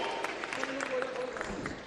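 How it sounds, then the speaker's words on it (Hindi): Audience applause at a student award ceremony, steady clapping from a crowd filling the whole stretch with a low murmur of voices underneath. "एक बार जोरदार तालियां।"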